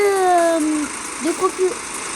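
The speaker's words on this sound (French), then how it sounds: "ça fait un moteur différent des autres voitures que j'ai créées" A custom multi-engine car engine in a Roblox game revs with a rising, steady whine and rumble, then settles to a low drone with a few short bursts, while a person talks over it.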